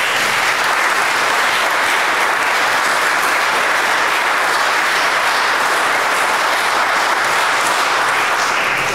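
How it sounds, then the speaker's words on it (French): A church congregation applauding after Mass, a steady, even wash of clapping from many people that continues at a constant level throughout. "On peut applaudir ces personnes."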